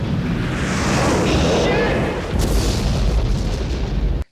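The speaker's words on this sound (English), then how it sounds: "It's the Bruce Willis action flick that infused badass explosions," Loud, sustained rumbling movie explosions from a Bruce Willis action film roll on continuously, with a sharper burst partway through and a heavy low-end roar that cuts off abruptly.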